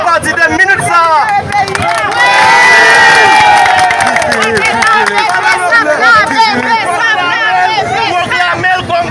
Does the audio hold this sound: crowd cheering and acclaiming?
yes